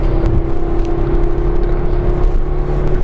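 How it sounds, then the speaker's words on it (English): Steady loud engine drone with a constant whirring tone and rumble, heard from inside or close to a Maruti Suzuki S-Cross petrol car being revved, with no talking. "if you really rev the engine, it gets a bit noisy"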